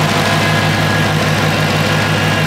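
A Dodge Hellcat idles steadily close by, a loud continuous engine rumble with a rhythmic low pulse, while a newly installed cooling fan whooshes along with it as one constant roar.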